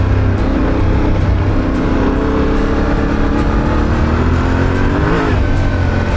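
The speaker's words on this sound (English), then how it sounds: "I'm in second gear, and let's just get on that throttle a bit" A 2025 Yamaha Tenere 700 Rally adventure motorcycle accelerating in second gear in a smooth throttle mode, engine note steady and loud with rising pitch under strong wind noise and no talk.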